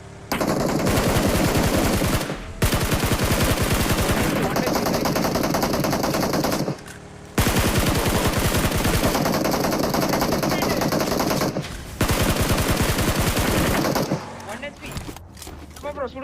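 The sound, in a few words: gunfire in BGMI video game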